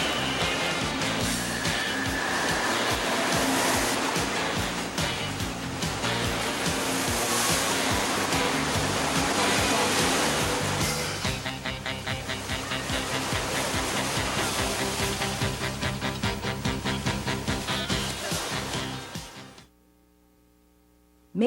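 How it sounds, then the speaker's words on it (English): Dense rushing water fills the World Water Park, a vast indoor aquatic center with water slides: a continuous loud roar and splash washing around the space, steady for most of the stretch before cutting abruptly to near silence. "the World Water Park, the largest indoor aquatic recreational center on Earth"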